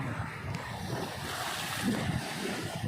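Sea waves surge steadily against the Konkan coast where traditional fishing goes on, a continuous broad wash of surf with wind noise on the microphone and no clear separate breakers.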